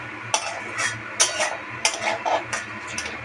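Food being stirred in a cooking pan, with four or five distinct scraping, clinking strokes of a utensil at a steady pace over a faint low hum, close and without talk.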